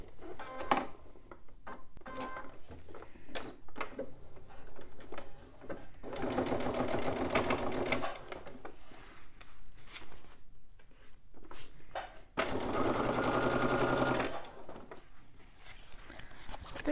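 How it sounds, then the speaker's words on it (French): A domestic sewing machine runs in two steady bursts along a previous seam line while making a fabric pouch, with quiet handling of fabric and a few soft clicks in between. "je couds le long de ma précédente ligne de couture"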